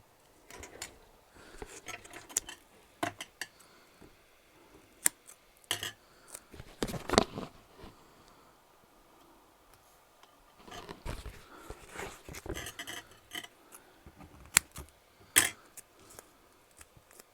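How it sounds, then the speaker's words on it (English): Sticky craft scissors snip paper in scattered short bursts of close, crisp cutting, with quiet pauses between the clusters of snips. "So let's get my sticky scissors."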